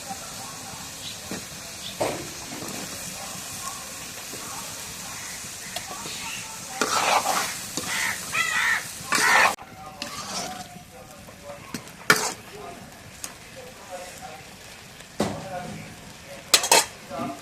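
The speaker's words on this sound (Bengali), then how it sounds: "আলু দিয়ে একটু কষাই নিই" Potatoes being stir-fried in a pan, with a utensil scraping and clinking against the metal in scattered bursts over a faint, steady sizzle.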